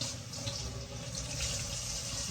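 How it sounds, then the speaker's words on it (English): Water running steadily from a kitchen faucet while peppers are rinsed under it, a continuous close hiss and splash with no talk. "we're gonna go ahead and rinse your peppers off"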